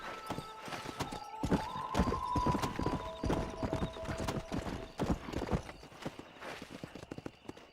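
Horse hooves gallop in rapid, steady clip-clop beats in the Western video game Red Dead Redemption, loud and close, with a brief whinny near the start and no voices.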